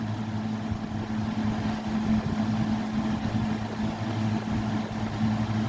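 Vintage Eskimo model 121050 electric fan running smoothly, a steady low motor hum with an even whooshing airflow, close and continuous with no rattle.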